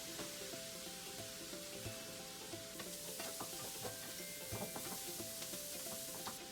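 Food sizzles in butter in a pan over high heat, a dense steady hiss with frequent small pops and a few stirring clicks, close and continuous with no talking.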